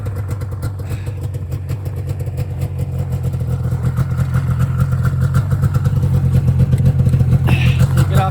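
A small engine idles steadily after a choke start, its low, even throb close and continuous and growing slightly louder as it warms, with a brief clatter near the end.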